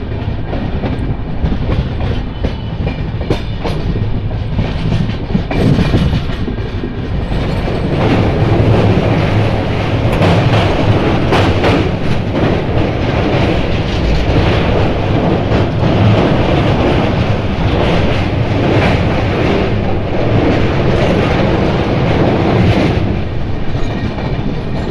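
The Tirumala Express, train 18522, runs on the rails between Guntakal and Visakhapatnam, a loud, steady rumble with rhythmic clickety-clack of wheels over rail joints, heard close and continuous with no talk.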